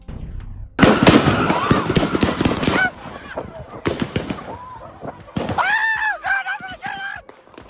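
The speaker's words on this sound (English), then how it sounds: "a barrage of gunfire echoes around them" Rapid bursts of gunfire crack out in a dense barrage at a block party in Orange Mound, Memphis, echoing, followed by sparser shots and shouting voices in the distance.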